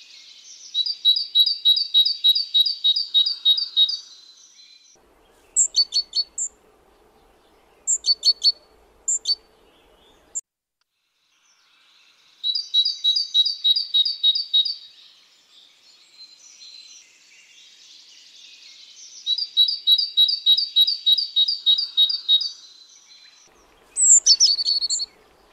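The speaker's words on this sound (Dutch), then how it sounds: "pimpermees en mussen wisselen elkaar af." Blue tits and sparrows calling at a winter feeder: long runs of rapid, high trilling chirps alternate with short sharp chips and brief pauses, near and clear.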